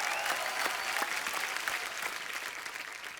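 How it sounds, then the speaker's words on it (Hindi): Studio audience on a TV comedy show applauding loudly for a film team, a dense, steady wash of clapping for about three seconds that tapers slightly toward the end. "एक बार बरेली की बर्फी की टीम के लिए जोरदार तालियां।"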